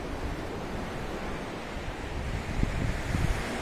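Surf surging inside a collapsed sea cave on the Scottish coast, a steady broadband wash with wind buffeting, swelling slightly louder toward the end.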